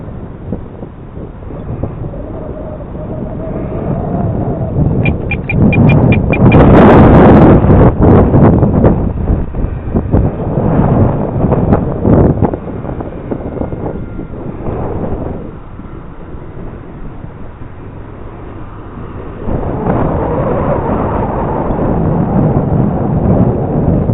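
Strong wind buffets the microphone outdoors during a flight of a RocHobby/FMS P-51 Strega RC plane, a loud rumbling roar that surges and eases in gusts.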